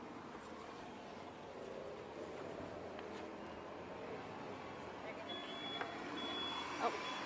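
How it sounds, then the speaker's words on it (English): Faint, steady reversing beeps from a truck in the distance, heard over low traffic and ambient rumble, with a voice murmuring quietly. "Oh, more beeping."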